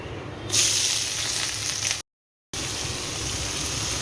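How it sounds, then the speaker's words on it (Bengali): Onions added to oil with whole garam masala set off a sudden burst of loud sizzling that settles into a steady hiss, briefly cut by a silent gap. "তারপরে দিচ্ছি পেঁয়াজ ভাজা হচ্ছে"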